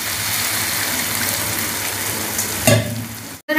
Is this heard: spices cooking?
yes